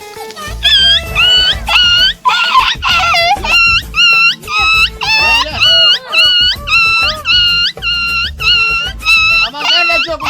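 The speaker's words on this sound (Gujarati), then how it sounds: "આમાં તો ગરુડિયા રોવે" Newborn puppies, a litter just born to a dog on a farm, whimper and cry close by in loud, overlapping high-pitched wails and yelps that rise and fall almost without pause.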